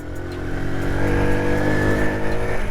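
A 1995 Honda C50 small motorcycle engine pulls steadily through the gears, a continuous close buzzing drone that rises gently in pitch as it accelerates, with no talking over it.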